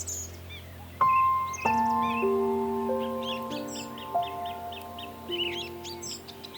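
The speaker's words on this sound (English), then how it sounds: "Behold the birds of paradise, captivating creatures that dance and display" Birds of paradise call in a forest, with short chirps and whistles scattered over the high range, while sustained ringing tones enter at about one and two seconds and hold underneath.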